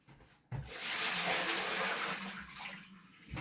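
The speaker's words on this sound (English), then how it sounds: "lift them out a second, give them a little bit of a gentle squish, and just plop them on top of it while I pour out some of this water" Water poured out of a basin of hand-washed Cormo, Lonk and lotus fibre yarn, a sudden rushing gush that stays loud and splashing for a few seconds before tapering off.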